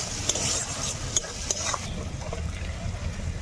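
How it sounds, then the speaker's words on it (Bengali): Masala with chopped tomato is sautéed and stirred in a pan for a Bengali rui fish curry, giving a soft steady sizzle with a few sharp scraping strokes of the spoon against the pan. "মশলাটাকে ভালো করে কষিয়ে নেব"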